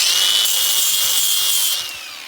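A flap wheel grinding old gasket material off a cast aluminum Chevy/GMC TBI throttle body, a loud, steady high-pitched whine with abrasive scraping up close that eases off near the end.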